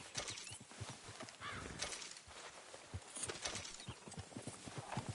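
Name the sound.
horse hooves clip-clop in video game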